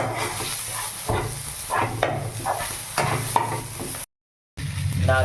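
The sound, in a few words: stirring onion with ginger garlic paste frying in pan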